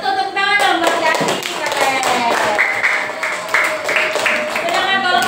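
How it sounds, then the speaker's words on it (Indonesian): Classroom applause for a student, a burst of hand clapping and tapping from pupils, moderately loud and steady for several seconds, with children's voices and musical tones mixed in underneath. "tepuk tangan dong buat Yati."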